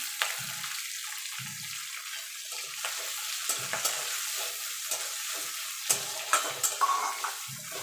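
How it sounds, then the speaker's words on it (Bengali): Onion frying in a pan with garlic and slit green chillies, a steady close sizzle broken by stirring scrapes and clinks of the spatula. "পেঁয়াজটা একটুখানি ভাজা ভাজা করে নেবো"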